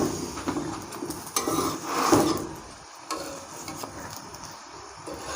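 A mooli paratha fries in ghee on a tawa with an irregular sizzle and crackle. A spatula scrapes and clinks against the pan now and then, and there is no talk.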